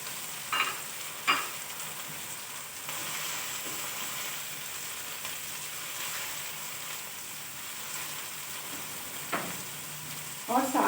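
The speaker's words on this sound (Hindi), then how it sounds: "लहसुन अदरक को जब आप घी में भूनते हैं तो इसकी बड़ी प्यारी सी खुशबू आती है।" Garlic and ginger frying in ghee with tomatoes, a steady broad sizzle running throughout, broken by a few brief stirring scrapes near the start and close to the end; no one speaks.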